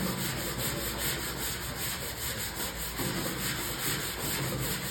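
180 grit sandpaper rubs back and forth over a car body panel, a steady close scratchy sanding with an even rhythm of strokes.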